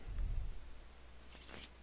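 A deck of cards for the Arkham Horror card game is shuffled once, giving a quiet, brief papery riffle after a soft low thump from handling.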